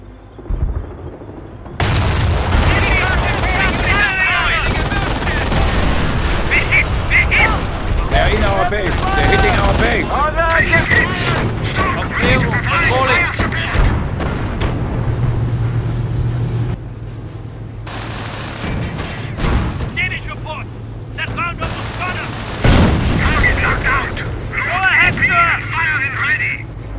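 Heavy gunfire and artillery blasts in the World War II strategy game Company of Heroes: Tales of Valor, loud and near, with machine-gun bursts and booms nearly continuous for the whole span, briefly easing midway before resuming, while voices call out over the battle.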